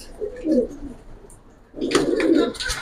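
Silver pigeons in a loft give low throaty coos, a soft burst early then a louder stretch of cooing near the end, mixed with rustling and brief chirpy sounds.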